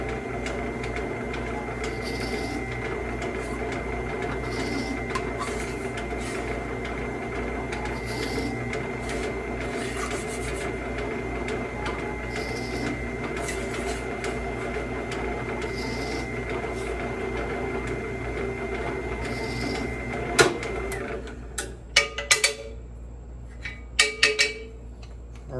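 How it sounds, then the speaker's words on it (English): A machine countersinks holes for Corby screw heads in a knife handle, making a steady droning whir with a constant hum. Near the end the drone stops, leaving a few sharp clicks and knocks. "We're now going to countersink for our Corby screw heads."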